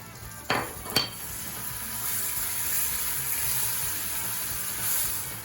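Butter dropped into amber caramelized sugar in a pot: two sharp splattering bursts, then a steady, even sizzle that carries on close and moderately loud.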